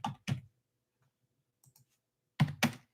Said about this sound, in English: The copy and paste isn't working well, so I have to type it manually.